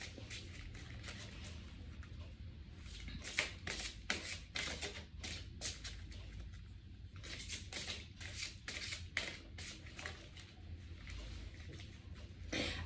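Playing cards being shuffled by hand during a tarot-style reading, a run of crisp riffling bursts and soft rubbing at close range, repeating throughout with no talk over it.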